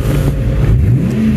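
Brief, close burst of a 1997 Ford Mustang SN95 engine running at about 800 RPM, a loud, steady low mechanical hum with slight wavering.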